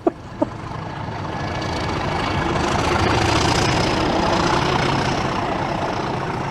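A Class 37 diesel locomotive growls as its engine throttles up, a broad, rough rumble swelling after two short clanks and then holding loud and steady close by.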